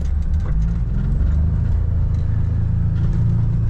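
A vehicle engine running in four-wheel drive, a steady loud low rumble close up from start to finish, with no talk.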